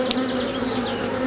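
Honey bees buzzing steadily during a spring hive inspection while a nuc colony is moved into a bigger box, a dense, continuous close drone of many bees with no speech.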